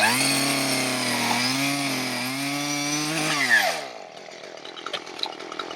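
A chainsaw runs loud and close as it cuts into a log, its engine pitch steady, then dropping and cutting out, leaving faint rustling and clatter.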